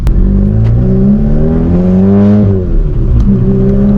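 A modified VW MK7 with an EQT Stage 2 tune, its engine running loud and close with a deep, steady drone that swells and rises in pitch around the middle before settling back.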